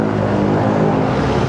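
2023 Kawasaki Ninja 400 motorcycle with a newly fitted exhaust, running at a steady idle or rev, giving a loud, dense, continuous rumble that holds the same pitch throughout.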